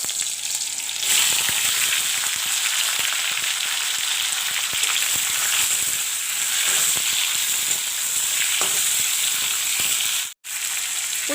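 Mango pieces fry in hot oil with panch phoran, making a loud, steady, close sizzle that runs almost unbroken, with a faint stir now and then and one brief drop near the end.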